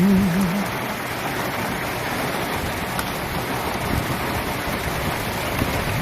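Steady rain hisses continuously in front of Wat Tham Khao Prang in Lopburi, Thailand, a broad even wash of falling water with no voices.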